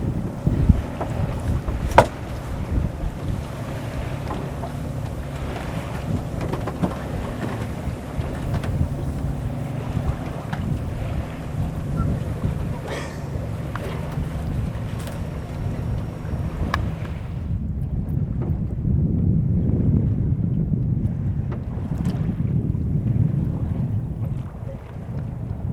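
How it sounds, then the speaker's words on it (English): A sailboat moves slowly through light wind on protected waters, with a steady, continuous rush of wind across the microphone and a soft wash of water along the hull, no voices heard. "We're not becalmed, but we're just enjoying a very slow, leisurely sail."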